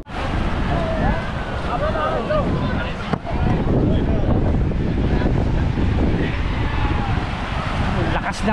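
Strong surf breaking on a Boracay beach with fine sand, a loud continuous roar of waves mixed with heavy wind buffeting the microphone, while someone talks over it.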